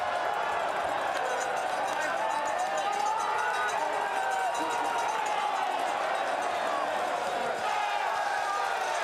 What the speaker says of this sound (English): You can see and you can hear the crowd.